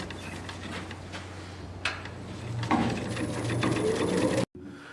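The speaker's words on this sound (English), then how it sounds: "You want to keep that cutter supported all the way through the cut." An ONEWAY Easy-Core coring system cuts into wood on a spinning lathe, a steady droning hum with scraping texture, a sharp knock midway and rising whine before an abrupt stop.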